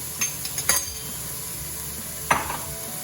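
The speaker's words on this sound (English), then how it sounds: "And I'm gonna stir this." Cauliflower soup seasoned with salt and black pepper is stirred in a pot, with a few soft spoon scrapes and clinks over a low simmering hiss, including one sharper knock toward the end.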